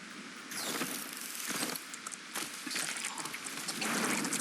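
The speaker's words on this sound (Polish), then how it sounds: "i deszcz przyszedł" Rain falling in the LEGO Fortnite video game: a steady, dense hiss of rainfall that swells and eases in waves, with no talking.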